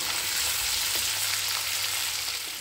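Chopped ginger and green chilies frying for Balochi chicken tikka, a dense, even hiss of hot oil that stays loud and constant throughout, with faint stirring ticks and no speech.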